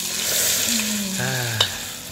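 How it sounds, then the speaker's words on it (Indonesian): Fried shallots stirred into sambal sizzling in a pan, with steady frying crackle and scraping stirring, and a brief clink near the end. "Nah, sekarang baru dimasukin bawang goreng Baraya tuh."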